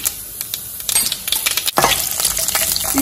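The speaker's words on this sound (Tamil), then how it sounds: "கடுகு ஒடிக்க ஆரம்பிக்கிறது இப்போ கடலை பருப்பு போடுறேன்" Mustard seeds crackling in hot oil as chana dal is tossed in for a gongura chutney tempering: irregular sharp pops and crackles, then a sudden louder burst of sizzling with a clink from the pan.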